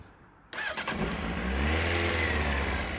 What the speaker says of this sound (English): So we should have enough energies in the battery, etc., to fire the bike up.